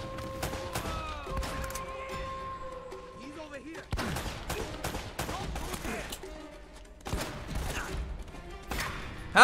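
Gunfire in the Uncharted video game, with repeated sharp shots and bursts spread through the clip, some loud and close, mixed with game effects while a person talks over it.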